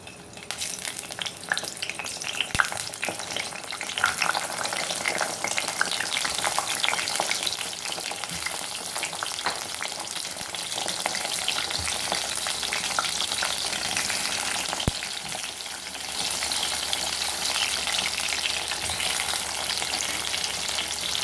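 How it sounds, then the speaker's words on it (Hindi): Eggplant pieces fry in hot oil in a kadai for a Sindhi-style baigan aloo fry, giving a loud, steady, close sizzle and crackle throughout with occasional sharper pops and no talking. "इसमें हम इस तरह से बैंगन को डाल के फ्राई करेंगे।"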